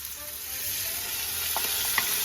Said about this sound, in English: I am going to add my sofrito, which is just some carrots, onions, and celery, all blitzed up into little bitsy little pieces